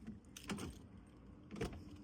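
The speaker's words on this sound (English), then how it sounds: "But now if I press the button, I'll be able to lock the car." A car's central locking clicks shut in response to a key fob button press, two short mechanical clunks about a second apart, close by, with faint jangling of keys between them and no talk.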